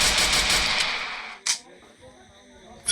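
A machine gun in the battle royale game Free Fire fires a loud, rapid burst that fades out, followed by a single sharp shot and quieter game noise.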